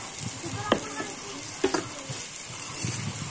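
Meat and potatoes fry in a pan with a constant close sizzle, and a few knocks and scrapes of stirring come through, along with faint background sounds.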